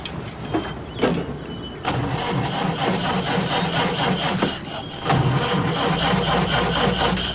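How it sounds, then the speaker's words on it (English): A car engine turning over in an old gangster drama, with uneven cranking and sputters at first, then catching into a loud, steady running rumble with a few rough bursts. "It's just what we need. Engine trouble."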